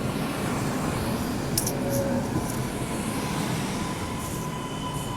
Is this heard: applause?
no